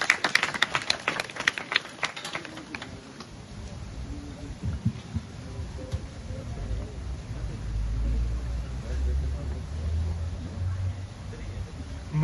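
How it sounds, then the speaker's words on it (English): An audience at a Hussain Foundation community event in Brampton, Canada, bursts into applause for a speaker. Dense clapping opens the clip and then gives way to a low murmuring hall ambience. "Give him a big round of applause."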